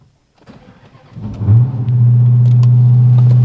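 A Dodge Challenger or Charger Hellcat V8 cranks and fires up, a short starter whir giving way to a loud, steady low idle rumble that holds close and alone.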